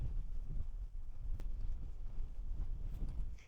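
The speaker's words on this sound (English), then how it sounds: "I am walking right into the wind" Wind blowing head-on against a hiker on a trail near Boulder, a steady low rumbling buffet across the microphone with no voices.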